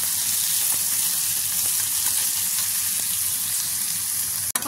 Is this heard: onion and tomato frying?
yes